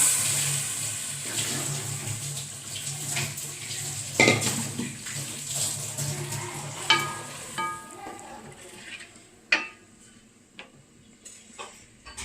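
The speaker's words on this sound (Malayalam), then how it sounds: "മുളകിനെ നമുക്ക് ഏത് പാത്രത്തിലാണോ നമ്മൾ കറി വെക്കാൻ ഉദ്ദേശിക്കുന്നത് അതിനകത്തോട്ടേക്ക് നമുക്ക് ഒഴിച്ചു കൊടുക്കാം" Red chili mixture is poured into a curry pot for fish head curry, giving a watery splash and pour, then scattered clinks and knocks of utensils against the pot, close and fairly loud with no talking.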